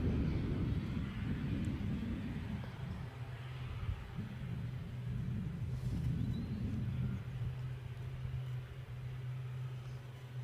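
A Turkish Airlines jet taxiing at Edinburgh Airport gives a steady, low engine rumble with a constant hum, heard from a distance outdoors for the whole stretch without any talk.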